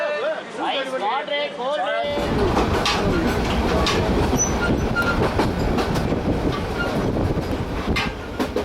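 A railway wagon rolls along the tracks at night with a steady, dense rumble and rattle that fills the space after a brief opening of voices and music. A voice speaks over the continuous noise of the carriage.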